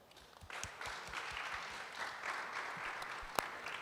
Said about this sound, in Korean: 큰 박수로 맞이해 주시면 감사하겠습니다